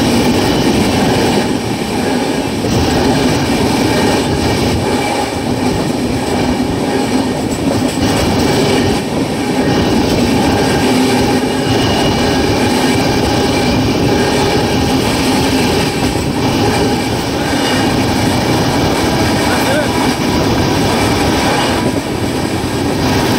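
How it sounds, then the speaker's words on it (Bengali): A moving Kanchenjunga Express passenger train runs nonstop between Bolpur and Bardhaman, giving a loud, continuous rumble and rattle of wheels and carriages with faint rhythmic clatter throughout. "বোলপুর থেকে বর্ধমানের মধ্যে আমাদের ট্রেন কভার করবে 51 কিলোমিটার নন স্টপ ডিস্টেন্স"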